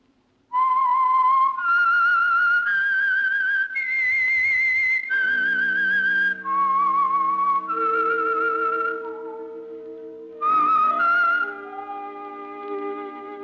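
A whistled theme for the 1946 radio program The Whistler rises and falls as a lone melody of sustained notes, with a soft orchestral accompaniment joining underneath partway through.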